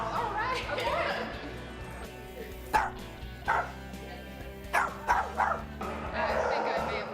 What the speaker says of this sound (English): I think I may have found a dog.